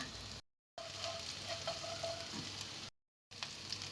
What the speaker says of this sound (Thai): ใส่รากผักชีกระเทียมพริกไทยนะคะ หรือที่เขาเรียกกันว่าสามเกลือค่ะ แล้วก็ผัดให้หอมค่ะ